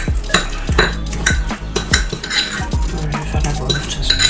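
A spoon stirs a breakfast mixture seasoned with paprika in a bowl, making rapid rhythmic scrapes and clinks against the sides, close and fairly loud throughout.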